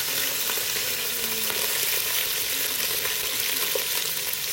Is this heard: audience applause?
no